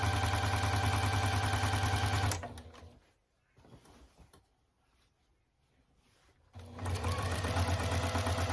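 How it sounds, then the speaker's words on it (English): A sewing machine stitches quilt binding at a 1/4 inch seam allowance in loud, fast continuous bursts, stops for a few seconds of near quiet with faint handling, then starts again just as loudly. "I'm just going to keep stitching all the way to the next corner."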